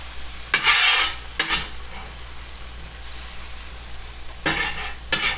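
A hoagie sandwich sizzles and fries on a hot griddle while a spatula scrapes under it, with loud scraping bursts near the start, once more after a second, and again toward the end.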